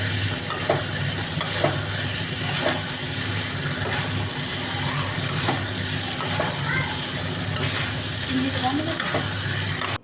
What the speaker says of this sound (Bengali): ভালো করে মিশিয়ে চিকেনগুলোকে দিয়ে দিতে হবে চিকেনটা ভালো করে ভাজা হয়ে গেছে